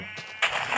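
A goat gives a single brief bleat, close and fairly loud, lasting under a second.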